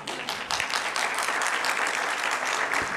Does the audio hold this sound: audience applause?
yes